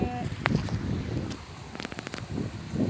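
Wind buffets the microphone in a steady rushing roar, with faint voices and scattered clicks mixed in.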